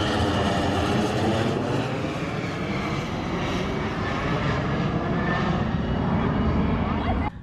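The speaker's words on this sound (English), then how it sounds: "Where we are standing is exactly where the planes are flying above our heads." Aircraft roar low overhead at Singapore's National Day Parade, a loud, sustained engine rumble that fills the whole stretch and swells then fades slightly at the end, with crowd voices underneath.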